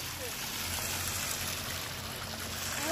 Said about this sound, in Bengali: এই দেখো, এখানে জল বেরোচ্ছে।